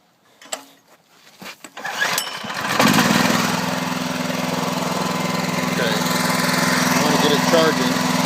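A small DIY 12-volt generator engine pulls over after a few quiet clicks and handling noises, then catches and settles into a steady, loud, buzzing drone.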